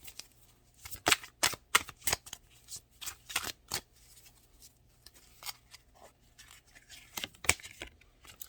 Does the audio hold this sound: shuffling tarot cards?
yes